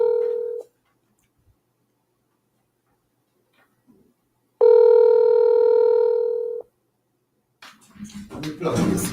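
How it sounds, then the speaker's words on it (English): A telephone ringing tone on a call sounds as a short steady burst at the start, then a longer two-second ring after a pause, followed by faint rustling and handling noise. "John, answer the phone, please."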